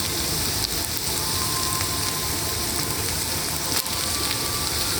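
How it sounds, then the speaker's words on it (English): Quartered onions hit a hot pan of sesame oil for Indo-Chinese chilli paneer, setting off a loud, crackling, rain-like sizzle that runs on steadily with a few sharp pops and no talking. "next the onions go in"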